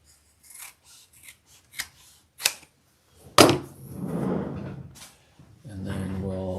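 Scissors snip excess leather wings off a stitched bag close to the seam, a few sharp isolated cuts followed by a longer rasping cut, with some talk and handling noise.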